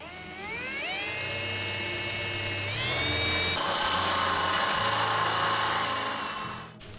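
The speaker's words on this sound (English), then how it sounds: "I'm going to drill a hole" Power drill boring a hole in a catamaran sailboat's solar arch, a loud steady whine that winds up in pitch, holds, then shifts to a harsher cutting tone before spinning down, close by with no talk.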